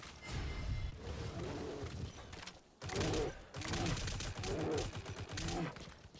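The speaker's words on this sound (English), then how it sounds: "That's a lot of shots there." Rapid bursts of gunfire in the video game Xenoblade X, dense overlapping shots in loud volleys with a brief lull near the middle, mixed with game effects.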